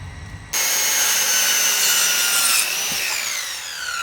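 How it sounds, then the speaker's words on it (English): A wooden baseboard is sawn by hand along a marked straight line, a steady close rasping stroke that starts abruptly after a short quiet moment and continues alone, easing slightly toward the end. "Where I made my mark, I would draw a straight line by using my spirit level so I can cut the board straight by following the line."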